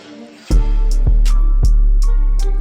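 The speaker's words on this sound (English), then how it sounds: "I also have this little cash register thing right before the drop hits." Beat intro built from a steady electronic pattern with heavy kicks and reverb-drenched effects, a cash register bell hit landing as the drop comes in, followed by regular punchy drum hits and bright repeating accents.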